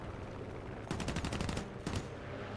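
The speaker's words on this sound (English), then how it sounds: "I shoot a little bit, I whiff again, and I get a hit on my wing." Aircraft machine guns fire from a fighter in a WWII flight combat video game dogfight, heard as two short rattling bursts over steady engine drone, the first longer and the second brief, close and moderately loud.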